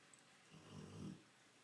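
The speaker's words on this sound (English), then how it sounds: "That's Sweetie Pants snoring behind me." A dog named Sweetie Pants gives one quiet, low snore in the background, a soft rumbling breath rising and fading in a quiet room.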